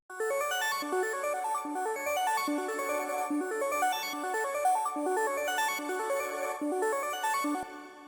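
A bright, plucked synth melody from Serum plays in quick repeating arpeggiated notes, steady and continuous, with a light reverb tail and no voices.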